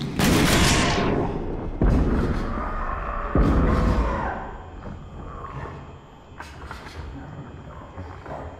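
Gunfire in the video game Amnesia comes as a few loud, sharp shots, each followed by a long, echoing reverberant tail, then quieter scuffling game sounds with voices talking.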